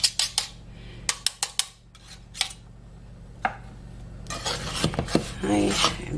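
A kitchen knife working through pastry dough for brown sugar pie, giving a string of close, sharp clicks and taps against a board or dish, then a denser stretch of scraping and rubbing toward the end.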